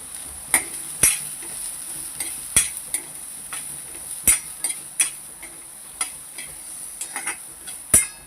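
Bitter gourd frying in oil with turmeric, a steady soft sizzle broken by sharp clicks and scrapes of a utensil stirring the pan, recurring every second or so, close and moderately loud with no voices.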